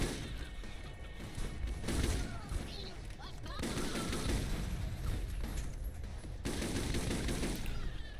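Dense gunfire sprays toward the player in Borderlands: continuous rapid bursts and overlapping shots, loud and close, with hardly a pause.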